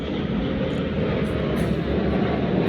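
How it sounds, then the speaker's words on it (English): An airplane passes overhead outdoors, a loud, steady engine roar that fills the whole stretch without a break. "You hear that plane?"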